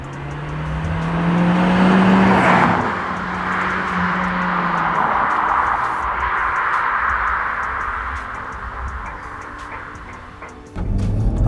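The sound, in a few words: SEAT Leon Cupra R cars driving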